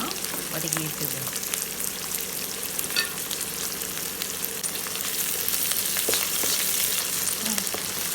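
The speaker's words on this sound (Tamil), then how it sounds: "வெங்காயத்தை போட்டு நல்லா வதக்கணும்." Onions sauté in hot oil in a pan for a mackerel fish curry, a continuous close sizzle with occasional stirring scrapes and small clinks throughout.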